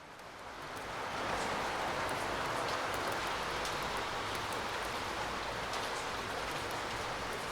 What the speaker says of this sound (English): I find it kind of weird that the rain is literally the developer just adding like an overlay